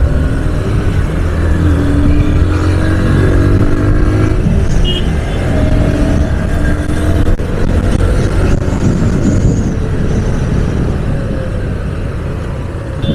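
Honda Hornet 2.0 and Pulsar NS 200 motorcycles racing side by side on a busy road, a loud, steady roar of engines and traffic with rising revs, continuous for about thirteen seconds, no voices.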